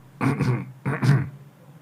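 A voice imitates an old man clearing his throat, two gruff rasping bursts close together.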